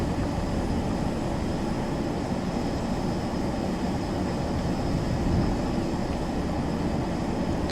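Airliner climbing after takeoff from Port Columbus in Flight Simulator X, a steady broadband engine and cabin drone holding constant throughout, with no talking.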